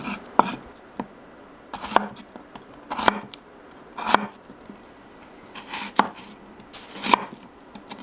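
A knife cuts onion into thick slices about 3 mm wide on a board for onion water kimchi, seven crisp evenly spaced chops, close and clear with no talking.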